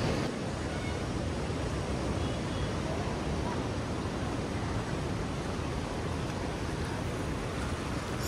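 The Seti River in Pokhara rushes through a narrow gorge, a loud, continuous broadband roar of churning water that stays steady throughout, with no break or change.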